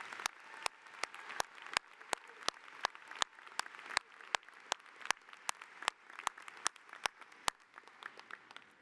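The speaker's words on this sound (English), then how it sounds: "One more round of applause for the senator." Sparse, scattered clapping from a small group at a university commencement ceremony, individual claps sounding sharp and distinct at a moderate distance, with no voices.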